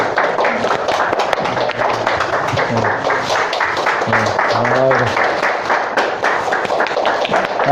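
A church congregation claps during a family service, scattered, loose applause from the room continuing at a moderate level, with voices and some tonal murmuring mixed in.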